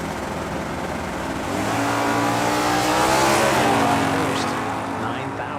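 Drag race at a Hangover Nationals event: a Chevelle in the left lane and a Mustang in the right launch together, engines rising to a loud, sustained roar that peaks mid-run and then eases, with a commentator's voice over the racing.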